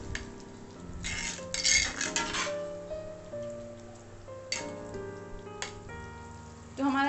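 Chopped fresh coriander is stirred into a pan of chicken lababdar with a metal spoon, producing a few scraping, clinking bursts spread over several seconds with quieter stretches between them, set against steady background music.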